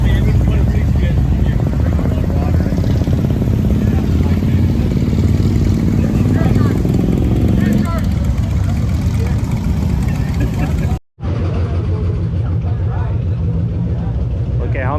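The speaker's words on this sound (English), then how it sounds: "Look at how many bikes we have here, right?" A group of motorcycles on a Michigan group ride rumbles and idles together in a loud, continuous engine drone, with people talking over it and a brief cut near the end.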